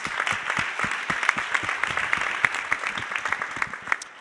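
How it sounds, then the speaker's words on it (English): A round of applause from the audience at an education conference panel, many hands clapping with sharp individual claps standing out, fairly close and tapering slightly near the end. "please give those folks a round of applause, please"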